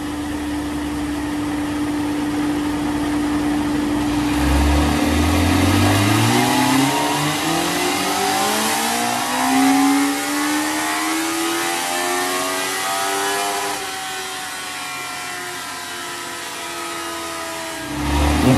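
A 2002 Honda CBR 954 RR motorcycle on a Dynojet dyno revs hard through a long rising pull, loud and close, then drops back near the end.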